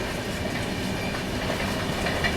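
The Tamil Nadu Superfast Express passing Hazrat Nizamuddin station in rain, heard as a steady loud rumble and rattle of carriages on the rails, continuous and close without a break.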